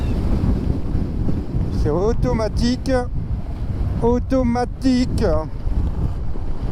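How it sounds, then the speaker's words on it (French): Strong, steady wind buffets a microphone outdoors, a low roaring rumble that runs through the whole stretch while someone speaks over it in short bursts. "Ça me saoule ce vent."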